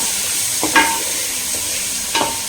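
Tomatoes are stirred into capsicum and onion frying in a pan for butter paneer gravy, giving a steady close sizzle with a few scraping stirs from a utensil against the pan.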